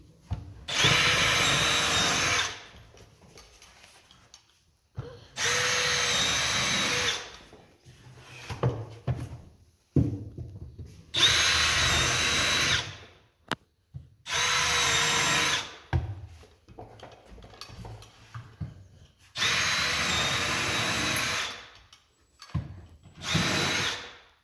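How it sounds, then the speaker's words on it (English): A power drill fitted with a countersink bit drives screws into an upper garage cabinet in repeated loud bursts of whirring, each a second or two long, separated by short pauses with light handling and knocking. "Got this bit on here that countersinks the screws."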